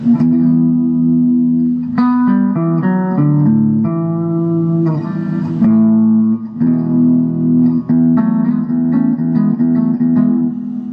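An electric guitar with a clean, undistorted tone plays a steady sequence of chords and single notes, ringing clearly with slight reverb.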